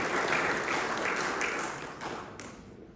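Church congregation clapping during a sermon, a broad wash of applause that swells early then fades away toward the end, moderately distant and without talk over it.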